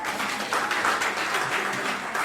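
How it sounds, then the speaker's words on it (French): Wedding guests applaud the groom Pascal in a reception hall, a steady wash of clapping from a crowd that holds evenly for a couple of seconds without any speech. "On applaudit Pascal, s'il vous plaît."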